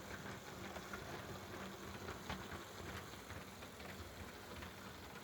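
An OO gauge model tank engine runs around its track, giving a steady, faint mechanical whir and hum that stays continuous and even throughout, with no voices.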